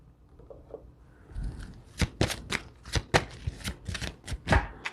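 Oracle cards shuffled during a reading, a quiet start building into a run of crisp riffling snaps and slaps in an uneven rhythm, close and fairly soft.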